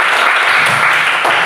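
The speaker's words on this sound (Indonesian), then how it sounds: "kasih tepuk tangan untuk" Students applauding in a classroom, a short loud burst of dense clapping close by with no talking.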